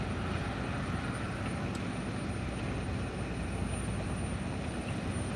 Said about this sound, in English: Industrial compressor.